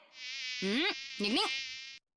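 A thin, steady mosquito whine hums close by, swelling twice into louder warbling swoops before cutting off abruptly.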